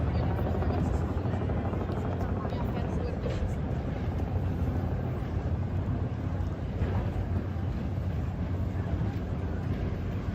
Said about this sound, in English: I was gonna pan and catch that chopper